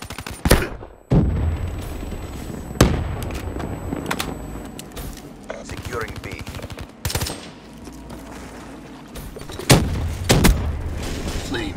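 Black Ops 3 multiplayer combat brings sharp bursts of gunfire and heavy booms scattered across the stretch, one of them a frag grenade blast, with loud impacts spaced unevenly and no talking.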